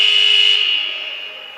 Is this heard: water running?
no